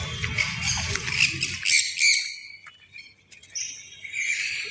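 Parrots squawk in open ground behind a mall, with harsh, scratchy calls crowding the opening seconds over a low outdoor rumble, then a few thinner, intermittent cries further off.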